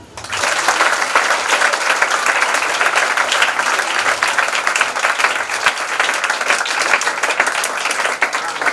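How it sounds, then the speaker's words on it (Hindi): Wedding guests at a Christian marriage ceremony burst into sustained applause, a dense, even roar of many hands clapping that holds steady and loud from start to finish. "ताली बजाओ।"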